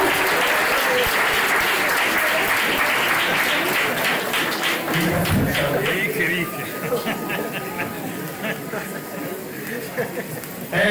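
Sustained loud applause fills a church wedding in honour of Jesus, steady clapping from a large congregation with voices and chatter mixed in, easing slightly toward the end.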